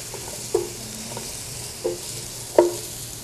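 A spoon stirring black pepper into a pot of vegetable chowder, three or four soft scraping knocks over a low steady simmer, close and without talk.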